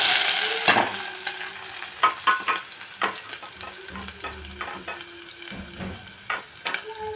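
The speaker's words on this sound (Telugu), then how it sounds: "వేగినాక ఉల్లిపాయ, పచ్చిమిర్చి వేయాలి" Onion and green chili frying in hot oil with mustard and cumin seeds, a steady crackling sizzle with repeated stirring scrapes and clinks of a utensil against the pan, close up and without voices.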